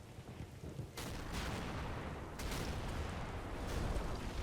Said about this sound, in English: I can hear plenty of shooting.